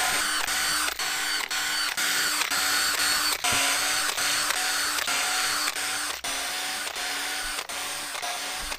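A drill boring pilot holes for screws in wood, a loud steady whirring whine cut by regular short pauses and clicks, close up and with no talk.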